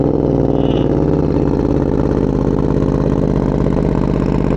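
A Ducati Diavel 1260 motorcycle idles steadily just after a cold start. The rumble is loud, close and continuous, with an even low pulse throughout and no voices.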